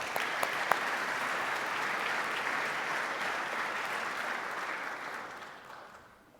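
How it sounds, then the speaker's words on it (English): Conference audience applauding, a dense wash of clapping that holds steady and then fades out over several seconds, heard from a distance and fairly quiet. "a round of applause to welcome them"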